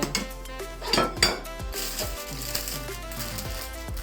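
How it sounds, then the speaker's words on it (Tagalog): Close metallic scraping and clinking of a utensil stirring pancit noodles in a pan, irregular strokes and taps with a faint sizzle underneath. "Habang hinahalo ko siya"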